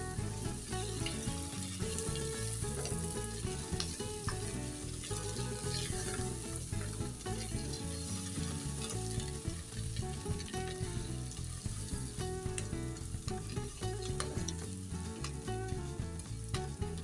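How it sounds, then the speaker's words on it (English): Potato chips masala sizzles and fries loudly in a hot pan while fresh coriander is gently stirred in, a dense continuous crackle with faint scraping and no voice. "I'll go in with the fresh coriander and mix them again gently so that we will not mash the potatoes"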